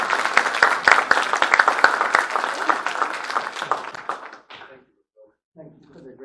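An audience applauds to welcome calligrapher Timothy Botts, dense clapping from a crowd that lasts around four seconds and then fades to quiet, with a few soft sounds afterward.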